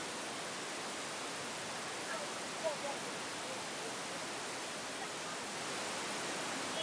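Floodwater of the Godavari river in Nashik, swollen by discharge from Gangapur dam, gives a steady, broad rushing roar that stays even throughout, with no voices heard.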